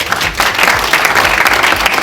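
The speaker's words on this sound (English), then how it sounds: "Clap them up" Brief, loud burst of applause from an audience at a maternal and newborn care initiative launch, dense close clapping filling a couple of seconds.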